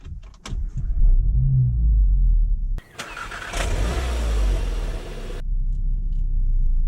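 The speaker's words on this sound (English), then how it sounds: "as you heard, this is the Cupra startup, which means that basically the car revs a bit more" A 2015 Seat Leon Cupra 280 ST estate starts with a key in Cupra mode: a near, loud crank and catch flare into a brief rev, then settle into a deep, steady idle rumble.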